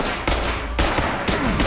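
Gunfire in the tactical shooter game Ready or Not: three sharp, loud shots cracking out at roughly half-second intervals, each with a short reverberant tail, with no talking.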